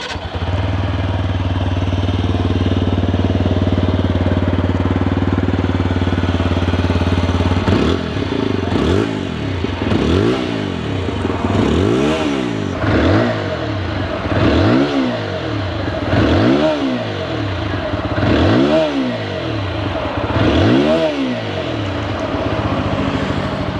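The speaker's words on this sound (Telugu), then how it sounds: "మీకు ఇంజన్ సౌండ్ కూడా వినిపిస్తాను." A 2025 TVS Apache 160 4V motorcycle's BS6 phase 2 engine idles steadily, then revs in a series of about eight sharp, evenly spaced throttle blips, loud and close with no talk.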